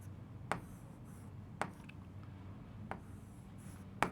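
Chalk or marker scratches on a board in short, sparse strokes with sharp taps at roughly one-second intervals, close and fairly quiet in an otherwise still room.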